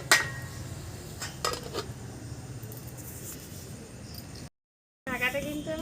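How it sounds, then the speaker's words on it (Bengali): A lid clinks onto a pot of simmering taro flowers, with a few light metallic knocks of pan and utensil up close, then a brief silence and a return of soft kitchen noise. "একটু নাড়াচাড়া করে কিন্তু আমি ঢাকা দিয়ে দেবো।"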